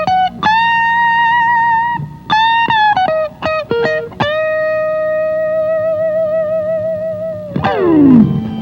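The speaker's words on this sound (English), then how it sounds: "The CS3 increases sustain without adding distortion." An electric guitar runs through a BOSS CS3 compression sustainer pedal. Clean, undistorted single notes and short phrases ring out, with one long note holding smoothly for several seconds before a final bend slides downward.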